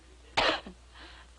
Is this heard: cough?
yes